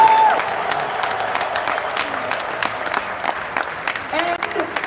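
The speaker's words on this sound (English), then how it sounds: "Let's clap that." Audience applause at VeeCon, a steady crackle of many hands clapping through the whole stretch, with a few scattered higher tones and voices mixed in.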